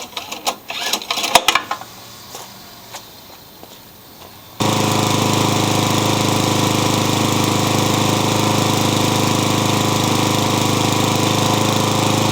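A cheap old lawnmower with its brake held by a zip tie sputters through a few failed pulls, then catches at about four and a half seconds and runs steadily. The engine roars loud and close at a constant pitch.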